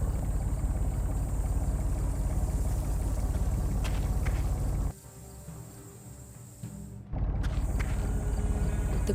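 A pump engine leaking oil in an adventure game hums as a steady, loud, low drone, cutting out briefly to near quiet before starting again.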